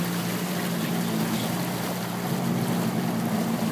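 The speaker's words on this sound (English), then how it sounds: "hopefully it doesn't cause my engine to stop" A boat's engine drones in a steady low hum while moving across water, with a continuous wash of water and wind noise over it and no talking.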